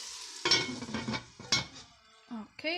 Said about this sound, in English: You can see how nicely all that is cooking in the Dutch oven